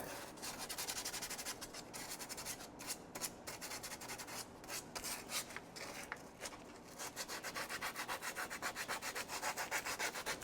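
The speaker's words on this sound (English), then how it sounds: "if there's any rust on it, which they don't all have, I sand them off" A small wheel bearing is sanded to remove rust, giving a steady, close, abrasive rubbing that runs continuously in fast back-and-forth strokes.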